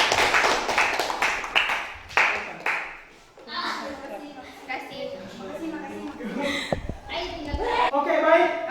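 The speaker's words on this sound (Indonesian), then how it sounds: "beri aplaus untuk kelompok 4" Classroom applause for a student group, a short burst of children clapping close by that fades, followed by chatter and laughter among the kids.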